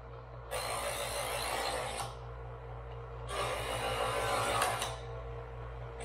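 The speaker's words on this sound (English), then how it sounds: "And the good thing about this particular Chef's Choice device is that it's actually angled in a way that allows you to easily run the knife through." A Chef's Choice Model 15XV electric knife sharpener runs with a steady motor hum while a knife is drawn through it twice, each pass a harsh grinding rasp lasting about a second and a half.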